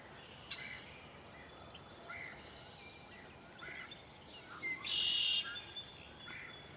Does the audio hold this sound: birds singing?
yes